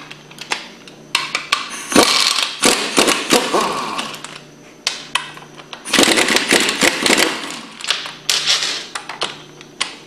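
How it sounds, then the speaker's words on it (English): A socket ratchet loosening the front housing bolts of a hydraulically driven Hypro centrifugal pump, close and loud, with bursts of rapid clicking and clattering metal handling separated by short pauses. "We'll start by removing the front housing with the 9/16 socket."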